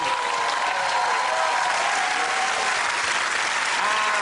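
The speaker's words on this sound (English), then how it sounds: "Give it a round of applause to Russell" A comedy panel show's studio audience breaks into loud, sustained applause for the comedians, a dense even roar of clapping with faint voices beneath it.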